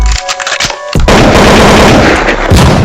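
Gunfire near a high school in Northwest Washington, DC: after a short quieter stretch, a very loud, dense burst of shots fills the rest of the clip, with a fresh surge near the end.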